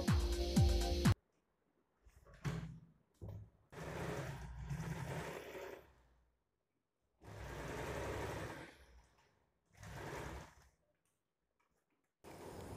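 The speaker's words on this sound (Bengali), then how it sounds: "এবার দেখুন তাহলে আমি সেলাই করে নিচ্ছি" A sewing machine stitches a tulip sleeve in short bursts, each run a close mechanical whir lasting a second or two, separated by silent pauses.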